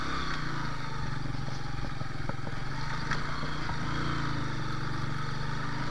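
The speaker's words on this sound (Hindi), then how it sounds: "रेत में बार बार मोटरसाइकिल कहीं कहीं आके धंस जाता है और फिर उससे निकालना पड़ता है।" A motorcycle riding through desert sand in Iran, its engine droning steadily and close with a low, continuous rumble.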